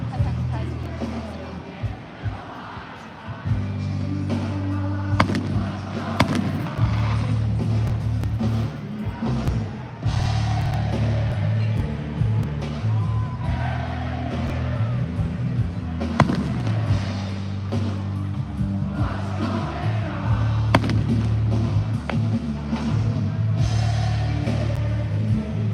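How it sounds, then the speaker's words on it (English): Fireworks go off in daylight at an outdoor event, a string of pops and booms over a low, steady rumble and crowd chatter. "I definitely could have waited another half hour or so for the fireworks"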